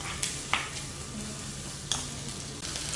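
Spam, garlic and onion stir-fry in a pan, with a steady close sizzle throughout and a few soft scrapes of a utensil stirring, no voices.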